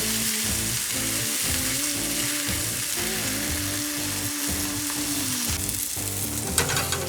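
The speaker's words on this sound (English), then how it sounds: "And then we put back the tortilla. Let it melt and get crusty." A tortilla topped with a mix of habanero and pepperjack cheese sizzles steadily in a hot pan as the cheese melts and crusts, with a low rhythmic scraping and stirring beneath the frying, close and continuous.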